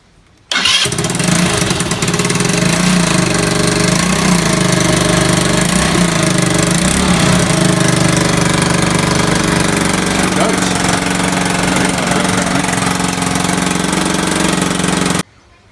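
A Kymco Super 8 scooter engine starts and runs loud and steady, its exhaust loosely tacked on with no gasket, giving a harsh, rattly drone close up that continues without a break.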